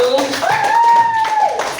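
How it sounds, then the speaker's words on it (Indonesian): A classroom of students applauds a student group, with brief clapping bursts mixed with a sustained voiced cheer or whistle that rises and holds before fading. "berikan tepuk tangan yang meriah untuk kelompok 1"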